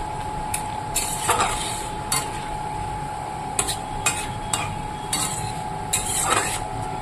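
Pabda fish frying in a pan gives a steady sizzle near the listener, broken by scattered clinks and scrapes of a utensil against the pan.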